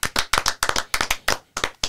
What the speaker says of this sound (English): Am I allowed to clap for myself?